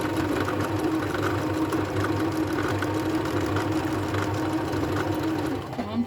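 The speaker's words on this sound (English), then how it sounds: "let me sew that bit together, 1/4 of an inch" A vintage sewing machine runs steadily, stitching quilt pieces together at a quarter-inch seam, its motor giving a continuous close whirring hum for about six seconds before easing off at the end.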